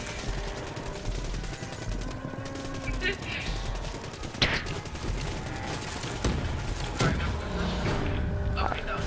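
Rapid bursts of gunfire from the zombie-shooting arcade game Dead Ops Arcade 2, with repeated shots and sharp cracks over a busy game soundtrack while players chatter throughout.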